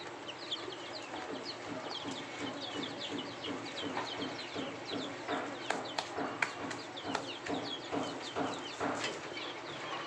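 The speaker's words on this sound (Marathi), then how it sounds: "पक्ष्यांना दाणा टाकताच पक्षी कसे तिथे येऊन तो दाणा खातात" A flock of chickens clucks and chatters steadily as they eat scattered grain, with busy pecking and scattered calls overlapping throughout, fairly close and continuous.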